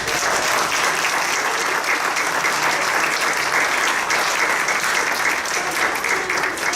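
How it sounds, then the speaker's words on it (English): A dense, continuous round of audience applause at an early church service, loud and sustained throughout with a faint murmur of voices beneath the clapping. "Let's just give them a round of applause."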